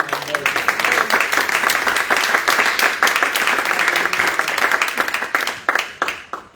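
A church congregation at an evening teaching meeting breaks into loud, sustained applause, dense clapping that carries on for several seconds before trailing off.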